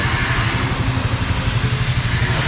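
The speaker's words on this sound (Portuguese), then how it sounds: "Ó o barulho. Só o cano. XRE190 só o cano, rapaziada." A Honda XRE 190 motorcycle with a straight-pipe exhaust runs loud and close, a raw, even, throbbing engine roar holding steady throughout.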